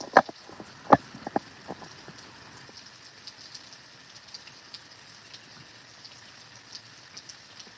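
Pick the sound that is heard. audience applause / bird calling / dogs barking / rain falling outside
rain falling outside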